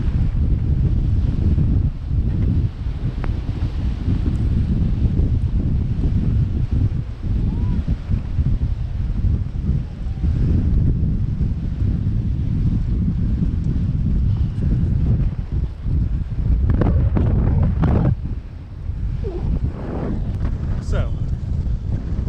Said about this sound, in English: The wind is blowing in the background, and the wind pushes the movement of these dunes northward, southward